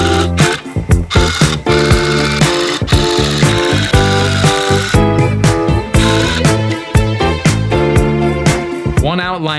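A tufting gun punching wool yarn into rug backing, with a loud, close, rapid mechanical buzz running in bursts and pausing briefly between passes, and no talking.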